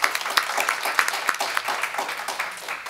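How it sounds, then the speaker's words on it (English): An audience at a candidates' forum gives a round of applause, with a crisp, steady patter of many hands clapping at moderate volume for a few seconds. "I want you all to give them another round of applause"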